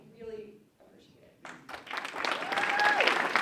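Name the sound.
audience applause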